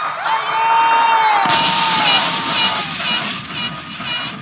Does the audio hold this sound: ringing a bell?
no